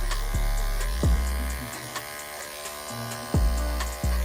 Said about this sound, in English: you can walk anywhere you want with this clipper and make a blend